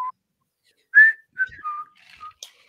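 A person whistles a tune of short, clear, fairly loud notes with brief pauses between them, alone with no talking.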